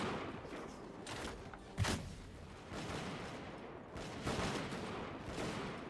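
Musket gunfire in the video game Bannerlord, heard as scattered, fairly distant volleys of shots with a few sharper cracks across a noisy battlefield background, with no talking.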